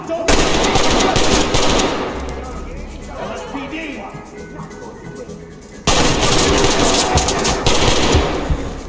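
Loud automatic gunfire rattles in the tactical shooter Ready or Not during a hostage-rescue raid on a Mexican restaurant. A long burst is followed by a quieter stretch with faint clinks, then a second heavy burst of rapid shots.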